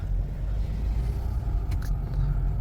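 A taxi car driving along, with a steady low engine and road rumble heard from inside the cabin and a brief faint higher-pitched noise near the end.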